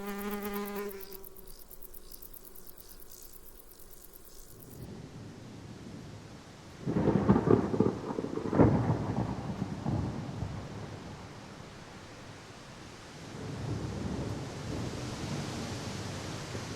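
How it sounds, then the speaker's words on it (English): Thunder from a brewing storm in a mountain wildlife setting: rumbles rise at about seven seconds and swell again near the end, heard alone over a hissing outdoor background. "A storm is brewing."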